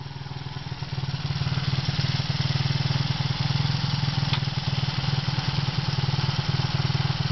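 A 1979 Honda XL185S single-cylinder motorcycle idles close by with a fast, steady rapid chugging that rises slightly after the first second, loud and alone without speech.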